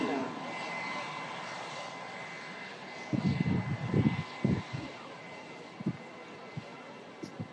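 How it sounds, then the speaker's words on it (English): A Ryanair jet airliner from Krakow comes in to land with a steady, moderate engine roar in the background, while people talk over the middle and later part. "And the Ryanair next to land from Krakow in Poland as the 330 comes round"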